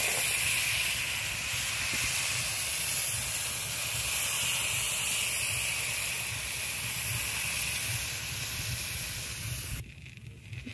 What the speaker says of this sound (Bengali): অল্প দিয়ে আমি ছোট ছোট করে ভেজে নেব।